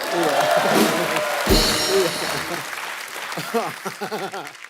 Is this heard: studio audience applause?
yes